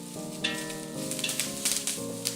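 Onions sizzle steadily in a hot pan for a chicken curry, a close, continuous crackling fry with a few brief stirring scrapes and no talk.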